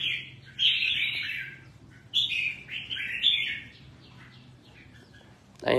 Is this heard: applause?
no